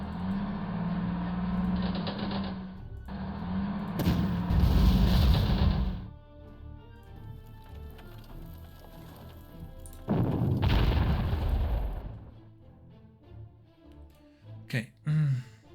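Artillery bombardment in the wargame Panzer Corps set in North Africa, heavy booming salvos in two long loud bursts with rumbling impacts, separated by quieter stretches of background music and small thuds near the end.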